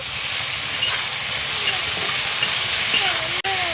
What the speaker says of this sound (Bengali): পেঁয়াজ আর টমেটোগুলোকে ভালো করে কষে নেব।